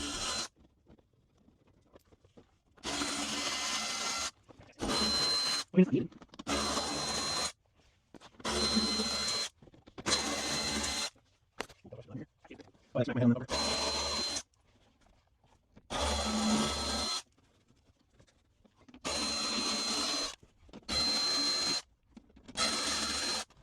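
A power tool whirs in repeated short bursts of a second or two, separated by quiet gaps, as it removes the undershroud bolts beneath a G35/G37 sedan; the sound is close and no one speaks.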